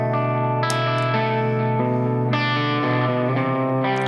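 Electric guitar played through a 3D-printed Black Kat Devices Fox Drive overdrive pedal switched on, sustained chords ringing with changes every second or so, loud and steady with no talking.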